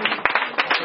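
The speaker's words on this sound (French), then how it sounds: "On acclame Jésus." A church congregation applauding during a worship service, with short bursts of clapping that rise and fall over less than a second.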